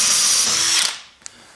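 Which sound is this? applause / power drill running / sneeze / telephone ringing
power drill running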